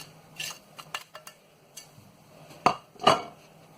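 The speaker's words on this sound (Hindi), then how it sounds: "अब हम ये कोफ्तों का मसाला मिक्स कर रहे हैं, इसको अच्छी तरह मिक्स कर लें।" Spices being mixed into minced meat for kofta in a bowl, a few separate clinks and scrapes of a utensil against the dish, sparse and close, with two louder knocks near the end.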